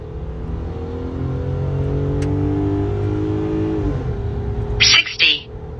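2025 RAM pickup with a V6 Pentastar engine and eight-speed 850RE transmission accelerating hard from a standstill, the engine rising in a loud steady drone through the gears, briefly cut by a short bright chime near the end.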